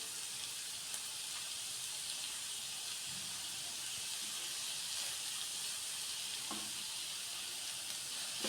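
Onion and macaroni mixture sizzling steadily in a hot pan, a continuous close frying hiss with occasional faint scrapes from stirring.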